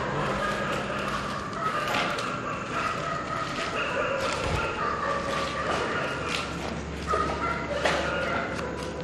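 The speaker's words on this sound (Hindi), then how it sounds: "इतनी तादाद में कुत्ते और भोंक रहे हैं, आप ये चेक करें" Many dogs barking and yelping together outdoors, a dense, continuous chorus of overlapping barks and whines, some near and some farther off, with a faint mechanical hum underneath.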